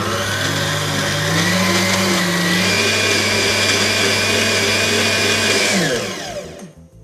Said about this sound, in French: Bon, on mixe.